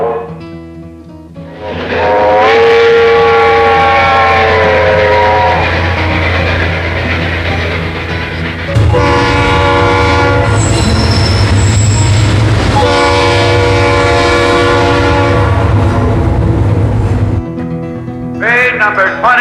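A train pulls away from a station platform with its horn blaring in long sustained chords, loud and close, over a steady rumble of railcars rolling along the track.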